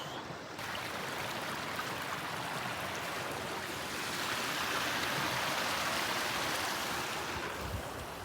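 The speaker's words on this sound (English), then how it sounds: "I love little rivers like that." A small mountain river runs in a continuous, fairly close rushing wash with no talk over it, swelling slightly louder midway through.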